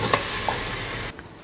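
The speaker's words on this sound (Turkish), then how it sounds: "Soğanlar iyice yumuşayana kadar tencerede kavuruyoruz." Onions sauté in a pot with a steady, close sizzle, broken by a couple of soft stirring knocks and easing off slightly near the end, with no voices.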